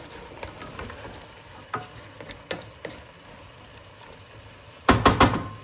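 Quark dumpling mixture being stirred in a pan, with soft scrapes and a few light knocks of a utensil, then a quick cluster of louder clacks near the end, heard close without speech.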